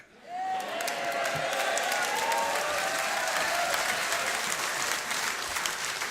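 Steady, sustained applause from a large audience at a band's finale calling for an encore, loud and continuous throughout, with a few faint whistles rising above the clapping.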